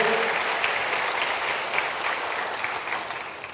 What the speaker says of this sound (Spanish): Alguien le da un aplauso a Dios